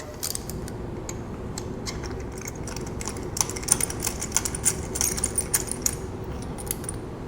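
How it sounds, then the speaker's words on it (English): A 14 mm deep socket wrench ratchets out a spark plug on a BMW R1200RT LC motorcycle, giving close, light metallic clicks that grow busier and sharper in the second half. "14 millimeter deep socket to remove the spark plug"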